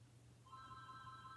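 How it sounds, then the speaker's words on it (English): A house landline telephone rings upstairs, a faint, steady electronic warble coming in partway through and continuing over a low background hum. "I don't know if you can hear my phone upstairs going off."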